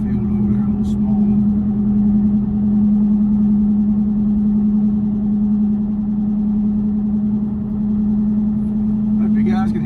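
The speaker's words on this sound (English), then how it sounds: "The noise from them tires is pretty bad." Steady tire and road roar inside a 2000 Dodge Dakota Quad Cab 4x4 pickup with a 4.7 V8, a constant low drone with a strong hum running the whole time and a few faint cabin clicks.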